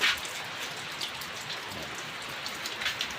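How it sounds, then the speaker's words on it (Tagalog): Steady rain patters on a surface, a dense continuous hiss with occasional louder drops. "Dahil sumabay pa yung ulan."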